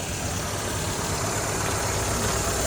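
A vehicle engine idles steadily at the starting point of a ride through Jim Corbett National Park, a constant low rumble heard up close with no voices.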